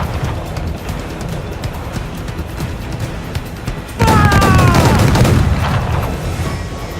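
Naval cannons fire a volley aboard a sailing ship in Assassin's Creed 4: Black Flag, a heavy booming burst striking midway and rumbling loudly for several seconds over a steady background roar.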